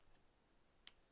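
Scissors snip the end of wool yarn once, giving a single faint, sharp click in an otherwise quiet setting, with no talking.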